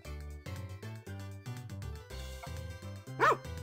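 A puppy barks once on a farm property during a command to drop something, a single short yip standing out over steady tonal music-like background hum.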